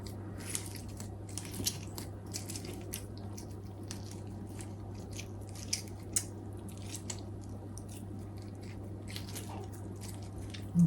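A lemon is squeezed on an old-fashioned vintage lemon squeezer, giving soft, close, irregular squishing and ticking sounds over a steady low hum, quiet with no talking.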